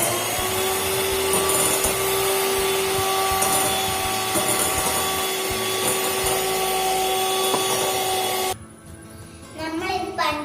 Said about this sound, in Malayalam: നമ്മൾ ഇത് പഞ്ചസാര ഇട്ടിട്ട് ബീറ്റ് ചെയ്തെടുത്തിട്ടുണ്ട്.